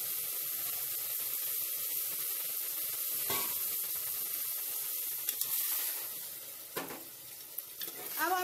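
Keema sizzles and fries steadily in a pan, with a louder burst of hiss and spatter as a cup of water hits the hot pan partway through.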